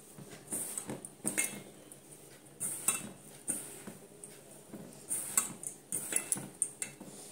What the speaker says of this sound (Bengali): এইবারে এটাকে আলুর সঙ্গে সুন্দর করে মাখিয়ে নেব।